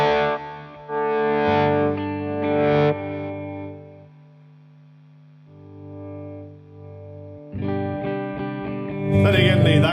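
Electric guitar with active or passive pickups played through distortion, thick sustained chords and held notes that thin out midway then return with a loud, fuzzy strummed burst near the end; no talking.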